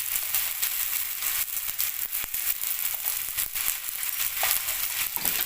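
Spice paste of ginger, cumin and chilli with turmeric and salt frying in a pan for a fish and potato curry, a steady close, bright sizzle with occasional stirring scrapes and no talk.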